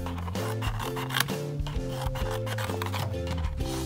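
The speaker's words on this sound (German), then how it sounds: "dann schneiden wir noch am Rand hier so ein paar Schlitze rein, dass es aussieht wie die Mähne" Scissors snip slits into the edge of a paper lion mask, giving short repeated cuts and rustles of paper close to the microphone at a steady working pace.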